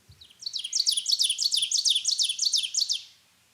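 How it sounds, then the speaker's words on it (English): An ovenbird in mature eastern deciduous forest sings its repetitive teacher-teacher song, a rising series of about a dozen sharp, evenly spaced two-note phrases, loud and clear against a quiet background. "it sings a repetitive song that sounds to some like it's saying, "Teacher, teacher, teacher, teacher,"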